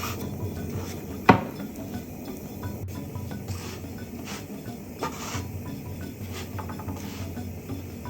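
Soy chunks are turned over in a pan, giving a sharp utensil clank near the start, then soft scraping, tapping and faint sizzling, with a few lighter knocks later.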